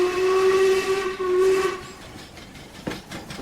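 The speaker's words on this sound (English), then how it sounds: "And the train is now shouting as well." A steam locomotive whistle blows a loud, sustained shrill blast near a railway tunnel, fading out with hissing steam, then a brief clank.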